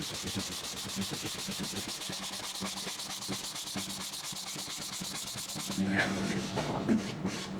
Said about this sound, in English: A little bit of a sand.